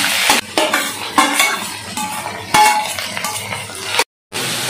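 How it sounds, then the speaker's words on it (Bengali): Boiled bottle gourd being cooked in ghee in a pan for payesh, with repeated stirring scrapes and a steady sizzle, close and fairly loud, broken by a brief silent gap near the end. "দেখো এখানে রান্না চলছে, দেখছো আমরা ঘি দিয়ে দিয়েছি, তার মধ্যে লাউ সিদ্ধটা দিয়ে দিয়েছি।"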